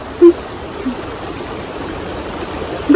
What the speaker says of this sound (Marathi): आणि पाणी बघा किती स्पीडने येते.